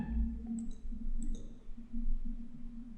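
A computer mouse clicks on a paragraph of a web page, giving a couple of faint, quick clicks over a low steady hum in a quiet room.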